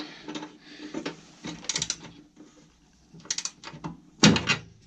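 A vacuum canister mount is tightened with a ratchet, giving short bursts of close mechanical clicks and metallic rattles separated by brief pauses, with no talking.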